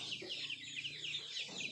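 Chickens clucking continuously in a backyard pen, several birds close by with overlapping busy calls and a steady fowl chatter.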